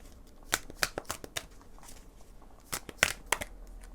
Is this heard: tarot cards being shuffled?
yes